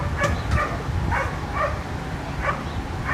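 A border collie at a dock-jumping championship gives several short, sharp barks and yips in a quick irregular series, fairly close and loud over steady background crowd noise.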